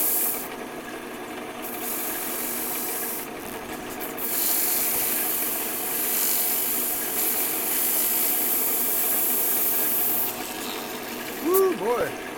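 A wood lathe spins steadily while woodturning, with a continuous whirring drone and a scraping rasp of the tool against the wood, and a brief squeak near the end.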